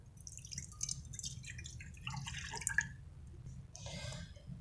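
Milk pours into a saucepan on the stove for a mocha coffee, heard as a soft, steady splashing trickle with a few brief drips, fairly close and not loud.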